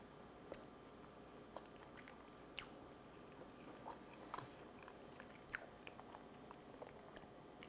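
Someone quietly chews and bites into a piece of traditional fruitcake up close. Soft, irregular mouth clicks and squishy chewing noises sit over a faint room background, with no talking.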